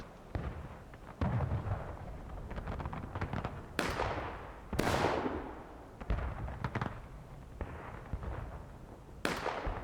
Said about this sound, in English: Seen a lot of well placed shots by the CSA cannons